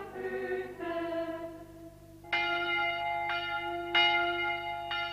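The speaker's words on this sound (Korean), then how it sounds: "종소리가 울려 퍼지고 가나안에 함께 사는 사람들이 예배를 드리러 갑니다." Church bells ring out on a Sunday at a Christian community settlement, several bright tolling strikes with long ringing harmonics that layer and overlap, moderately near and clear with no talking.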